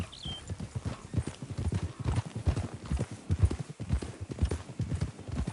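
Steady clip-clop of horse hooves from a mount ridden in Red Dead Redemption 2, a continuous trotting rhythm up close, with occasional faint voices.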